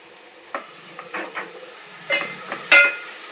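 Tomatoes, tamarind and coriander cook together in a pan, giving a soft steady simmering hiss broken by a few scraping stirs and light clinks of a utensil against the pan.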